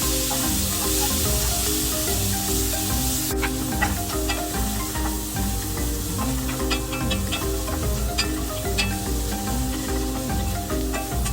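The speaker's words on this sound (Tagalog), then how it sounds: "Ayan, lutuin lang natin yung ating sibuyas." Chopped onions sauté in a hot pan for carbonara, giving a steady, close frying sizzle with scattered crackles and faint tonal sounds underneath.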